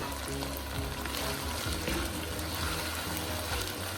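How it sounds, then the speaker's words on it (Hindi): Tomatoes go into hot oil with vinegar in a keema macaroni pan and get stirred, giving a loud, continuous sizzle with bubbling and scraping from the mixing. "अब इस पॉइंट पर हम ऐड कर देंगे टमाटर, अच्छे से मिक्स कर लेंगे।"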